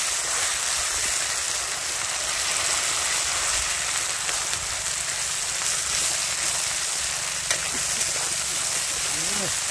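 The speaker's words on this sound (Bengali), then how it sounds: "এর মধ্যে দিয়ে দেবো বেটে রাখা আমাদের সর্ষা টর্ষা যা ছিল সবগুলোকে একবারে দিয়ে এটাকে এখন ভেজে নিব" Ground mustard paste sizzling as it fries in fish oil at an outdoor cooking spot, a steady broadband hiss running unbroken throughout, with faint voices in the background.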